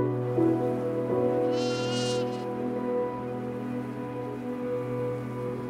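Sheep on a ranch bleat, one drawn-out high call clear above a steady low hum, with faint buzzing in the background and no talking.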